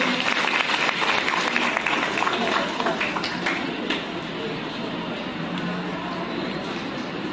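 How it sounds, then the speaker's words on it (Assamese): An audience at a student union felicitation ceremony claps steadily to welcome a guest onto the stage, a dense, sustained crackle of applause that gradually eases off. "এটি বিৰাট হাত চাপৰিৰে তেখেতক আজিৰ এই অনুষ্ঠানলৈ আমি আদৰণি জনাইছোঁ"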